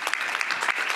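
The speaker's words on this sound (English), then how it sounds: "want to give them a round of applause" A symposium audience at a cancer health equity panel breaks into steady clapping, a dense, even burst of applause lasting about a second with no voices.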